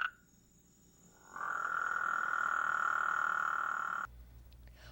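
Frogs call from a wetland, a steady high trilling chorus that swells in and holds for a few seconds before cutting off, with a brief faint call at the start and quiet background noise around it.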